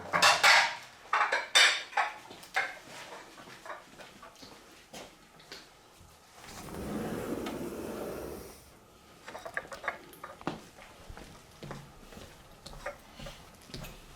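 Plates, dishes and cutlery clink and clatter in a domestic scene as they are carried out slowly, in scattered bursts, with a stretch of low rustling noise in the middle.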